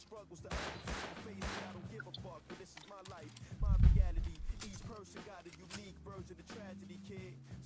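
Bursts of video game gunfire, with one louder, heavier blast midway, over a busy mix of game sounds and background chatter during a raid using satchel charges.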